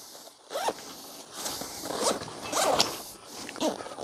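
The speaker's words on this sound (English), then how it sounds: "Unzip this one." Zipper on a pocket of a Three Pigeons range bag being unzipped, several quick ratcheting pulls heard close up and fairly loud, alone without talk.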